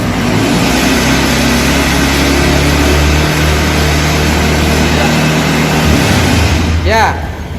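Fuel-injected motorcycle engine held under throttle during a fuel pressure test, a loud, steady revving drone that holds for several seconds before easing off near the end.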